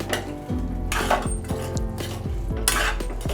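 A metal spoon scrapes and clinks against a pan while fried soybeans are stirred, giving a quick, close run of rhythmic metallic scraping strokes with no voices.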